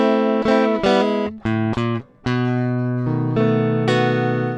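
An electric guitar plays a cliché blues turnaround as a clean sequence of sustained single notes and short chord stabs, descending step by step before a final held tone. It is up front with no speech.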